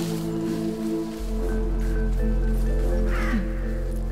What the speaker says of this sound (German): Die Raben immer noch, ne?